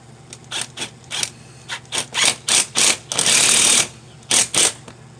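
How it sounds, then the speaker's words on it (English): A screw is being driven back into the mass air flow sensor of a 2003 Hyundai Santa Fe. Loud, close mechanical bursts repeat in quick succession, with one longer whirring stretch in the middle. "So you're gonna screw it back in."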